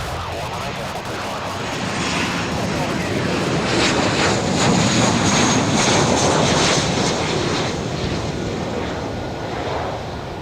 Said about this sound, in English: Here comes that Qantas. Look at that.